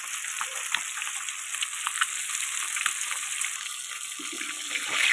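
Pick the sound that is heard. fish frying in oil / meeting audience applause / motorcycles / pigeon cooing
fish frying in oil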